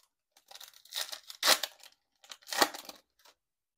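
A baseball trading card, a red foil Topps Stadium Club, slides into a plastic sleeve with two bursts of crinkly, rustling plastic, close and fairly quiet, with no talking.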